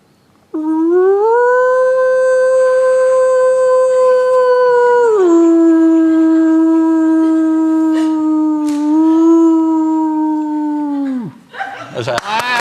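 A person imitates a wolf howl: one long, sustained wavering tone that drops in pitch partway, holds, then trails off, followed by brief noise.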